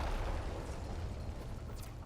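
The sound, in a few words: explosion in the video game Warframe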